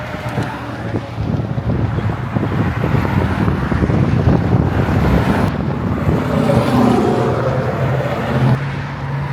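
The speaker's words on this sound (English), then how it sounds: "there's quite a bit of wind right now" Steady, loud wind buffets the microphone as a broad rumble, with passing-traffic noise mixed in throughout.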